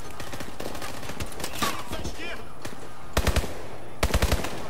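Submachine gun fire in Call of Duty Advanced Warfare, sounding as rapid automatic bursts with short fast rattling volleys, loud and close, while a voice speaks briefly over the game sound.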